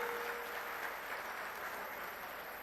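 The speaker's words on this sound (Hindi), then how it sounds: "उनके लिए भी जोरदार तालियां।" A political rally crowd clapping for candidate Sushil Gupta, a faint, distant, even roar of applause holding steady without breaks.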